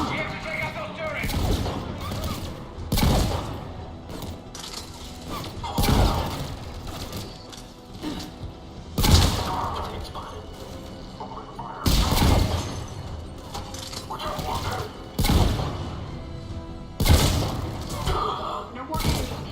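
Turret gunfire in a video game firefight, heavy thudding shots and bursts recurring every couple of seconds, loud and close, with voices talking between and over the volleys.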